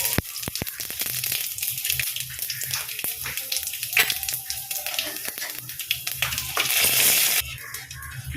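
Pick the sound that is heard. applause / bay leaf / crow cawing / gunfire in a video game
bay leaf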